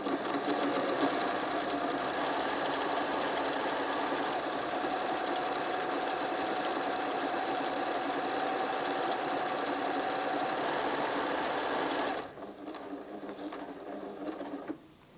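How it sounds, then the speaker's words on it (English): A 1987 PFAFF Creative 1471 sewing machine stitches name lettering for a sports bag, its needle running in a loud, steady, fast mechanical whir for about twelve seconds before easing into a quieter, uneven clatter and stopping. "Here we will stitch my name to put on the sports bag"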